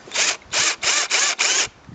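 A Drill Master power drill bores with an inch spade bit in five loud, even bursts of grinding whine, each broken by a short pause.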